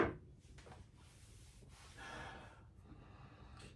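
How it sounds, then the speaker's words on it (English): A single heavy sniff of Colonel E. H. Taylor bourbon from a glass, sharp and close at the start, then fading into soft breathy noise with no talking. "that was a little heavy of a sniff that time"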